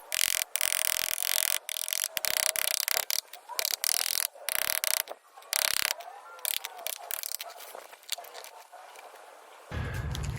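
A hammer knocks and scrapes at a concrete block to break out its top for a rocket stove, giving irregular bursts of sharp clattering blows and gritty rubbing close by, with brief pauses between.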